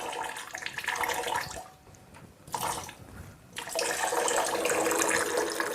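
Milk poured and splashing into a container in a farm or dairy setting, a steady broadband liquid rush that dips briefly mid-way, then returns louder and continuous.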